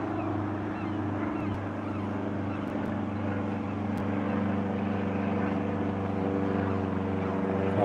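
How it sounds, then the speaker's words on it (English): A loud aircraft passes over Blackpool on a Saturday evening, a steady, droning engine roar with a low propeller-like hum that holds at nearly the same level throughout, with no talking. "Quite a noisy plane, that."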